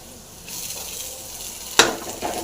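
Sprouted horse gram (kollu) sundal fries in a pan with a soft, close sizzle that swells, then a brief sharp clatter and crackle as the pan is stirred.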